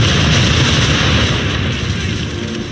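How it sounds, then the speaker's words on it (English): A ship's broadside of cannon fire in Assassin's Creed III, a continuous heavy rumbling roar of booming guns that fills the whole moment and slowly fades, with no talk. "Bring her round broadside, and when all guns are on target, call fire."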